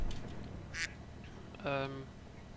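A single loud, nasal duck quack rings out briefly in a voice chat during a stream, amid faint background chatter and a soft earlier squawk.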